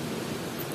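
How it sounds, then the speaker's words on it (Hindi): Heavy rain pouring outside at night, a steady broadband hiss of downpour filling the whole short moment, fairly loud and even, with no voices over it. "पता है बाहर कितनी ज्यादा तेज बारिश हो रही है,"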